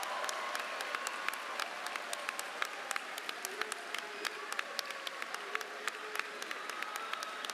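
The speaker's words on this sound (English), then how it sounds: "Can we give them a big round of applause?" A large graduation crowd claps for students enlisting in the military, a steady, moderately distant patter of many hands with sharp individual claps standing out throughout.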